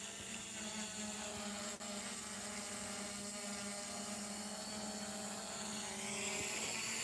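A new drone fitted with a big spotlight on its underside hums steadily in flight, a continuous buzzing whine with a strong tonal drone that holds at an even level throughout and swells slightly toward the end.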